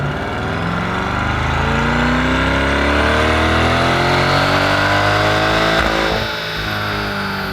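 C8 Corvette engine fitted with an aFe Power dry-filter intake revs steadily upward in one long, loud, sustained climb, then drops off abruptly near the end, with no talking.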